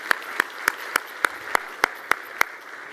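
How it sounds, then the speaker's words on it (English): A single pair of hands claps at an even, unhurried pace, about nine sharp close claps, while an audience at a climate control awards ceremony is asked to applaud. "I think we owe them a big round of applause."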